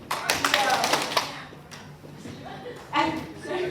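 Children in a classroom take turns speaking their names, each followed by a single sharp clap, so the claps come as a few separate, close taps mixed with young voices and some shuffling.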